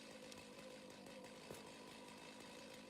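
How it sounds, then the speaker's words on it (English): A chainsaw in the video game Satisfactory runs steadily for the whole stretch, a continuous buzzing drone at low level with no breaks. "put the chainsaw away."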